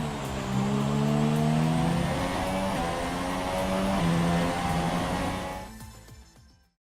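A Formula 1 race car engine in the F1 2017 video game holds a loud, sustained high-pitched whine with shifting tones, then cuts off quickly near the end, with no talk.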